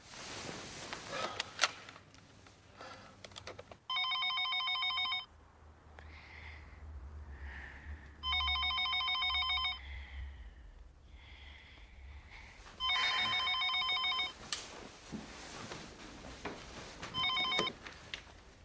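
A telephone rings in three long electronic bursts with gaps between them, fairly loud and close, with faint movement and background sounds in the pauses.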